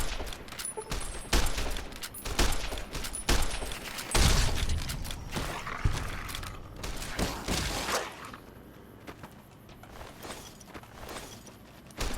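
Gunfire in the Fallout New Vegas video game: a rapid series of sharp, close shots with mechanical clatter and footsteps, easing into quieter ambience near the end.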